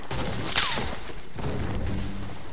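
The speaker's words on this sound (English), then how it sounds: "I'm getting sniped from somewhere, man." Sniper gunfire in Fortnite, a sharp whizzing crack followed by booming shot reports and rumbling impacts, moderately loud within game ambience and without speech.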